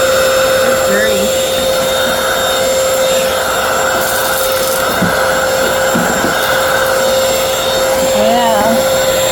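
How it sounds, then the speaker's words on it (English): A cordless vacuum cleaner runs steadily and loudly throughout, a constant whine with a hum beneath, while someone vacuums a lid; a few brief bumps and rubbing noises come through. "Let's go vacuum the lid."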